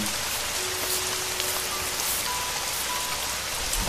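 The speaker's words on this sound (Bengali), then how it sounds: "শুরু হলো প্রবল বৃষ্টি" Heavy rain pours down steadily in a dense, loud hiss of drops hitting surfaces, continuous and unbroken, with no voices.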